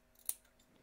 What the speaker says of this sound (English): you can trim off some of this fabric here.